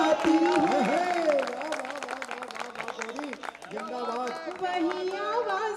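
Audience applause at a Hindi poetry gathering, clapping running under a voice and audible chatter, fairly loud and continuous but partly masked by the talk.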